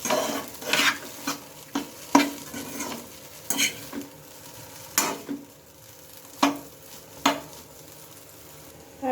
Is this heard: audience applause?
no